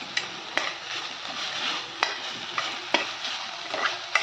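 Onion and tomato sautéed in oil in a pan while a spoon stirs, giving a steady close sizzle broken by sharp scrapes and clinks of utensil on metal every second or so, with no voices.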